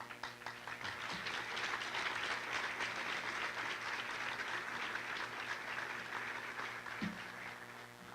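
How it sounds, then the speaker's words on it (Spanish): An audience at a church conference applauds after a talk on the 21st-century priest, a sustained, fairly distant wash of clapping that holds steady for several seconds and fades slightly at the end. "Acepto con gusto el aplauso."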